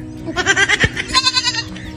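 A goat at a livestock market bleats in quick repeated wavering calls, loud and close, with a busy crowd murmuring faintly underneath.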